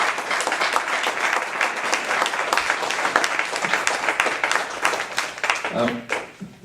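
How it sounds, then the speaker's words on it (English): An audience at an event gives a big round of applause for honored guests standing up, with dense, continuous clapping that swells and fades out near the end as a voice begins. "A big round of applause"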